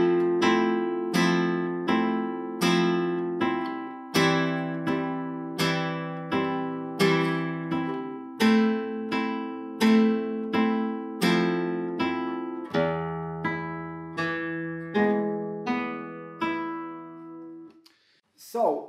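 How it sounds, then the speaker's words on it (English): Flamenco guitar played in the soleares strumming pattern with the index finger, alternating downstrokes and upstrokes in a steady, ringing rhythm of about twenty strums that ends with a brief scrape. "we strum it with our index finger, okay? So it sounds like this."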